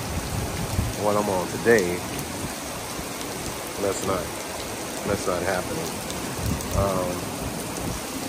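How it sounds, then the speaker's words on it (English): Heavy rain pouring down while a rider shelters with a Kawasaki ZX-10R motorcycle, a dense, steady hiss of rain on surfaces running throughout beneath someone talking intermittently. "I'll ride in the rain, but not coming down like this. This is coming down a little more than I would like it to be."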